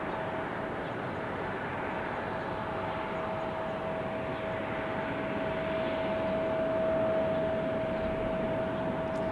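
An Airbus A321 airliner arriving at Salt Lake City International Airport produces a steady, broad jet roar with a faint whine, distant and even throughout, with no talk.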